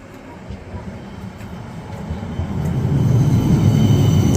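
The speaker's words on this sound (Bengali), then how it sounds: "এই যে ট্রাম এসে গেছে দেখেন" A tram pulls into a stop in the UK, its low rumble building steadily from a moderate level to a loud, close roar as it arrives, with no talk over it.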